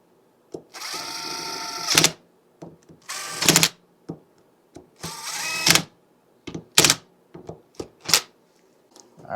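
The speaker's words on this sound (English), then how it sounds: "So now I'm just going to start putting it back together with the screws." Power screwdriver bursts driving screws back into a part during reassembly of a broken Hyundai Sonata Hybrid, with several whirring runs of a second or so each, then shorter clicks and brief spurts close by, no talking.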